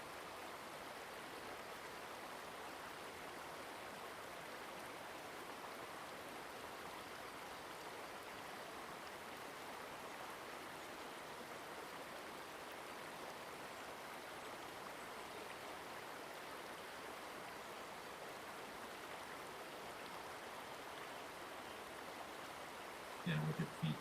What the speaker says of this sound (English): you feel one with the sound of the fresh water